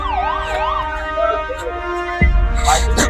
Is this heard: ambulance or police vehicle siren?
yes